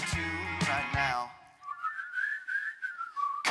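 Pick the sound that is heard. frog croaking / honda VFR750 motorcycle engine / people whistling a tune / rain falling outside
people whistling a tune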